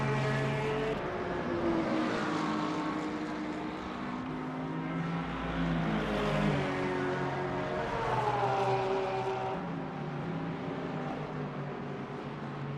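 A GT3-class Aston Martin Vantage race car in a Sebring sim race, its engine droning steadily with rising and falling harmonic sweeps as gears change, loud and continuous with other cars layered close by.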